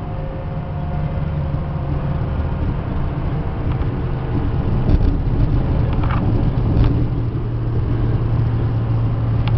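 Steady, low rumbling road noise heard from inside the cab of a Ford F550 stake body 4x4 diesel truck as it drives along a road, continuous and fairly loud with no breaks.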